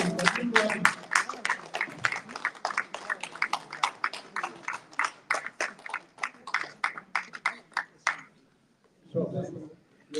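Steady rhythmic group clapping at a gathering: loud unison claps at a regular beat fill most of the stretch, then stop abruptly, and a voice follows after a short pause.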